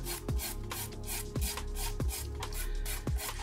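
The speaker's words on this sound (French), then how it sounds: "Et maintenant je reprends la lime 120 pour le corps de l'ongle." A fingernail filed with a 120-grit nail file in close, rhythmic strokes, each a short dry rasp with a soft tap, repeating steadily about every half second.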